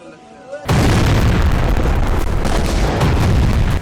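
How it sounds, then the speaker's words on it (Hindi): A loud, sudden blast from bombardment near Al-Shifa hospital in Gaza bursts in after a quiet moment and carries on as a sustained, roaring rumble, with voices present. "القصف جدا قريب"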